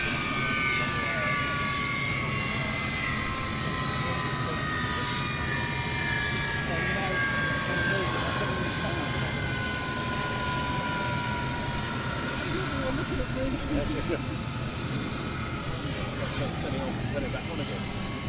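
Powerful jet engines of an Avro Vulcan bomber, XL426, roar and whine steadily at close range during taxi runs, a sustained loud rumble with rising high-pitched tones, and voices underneath.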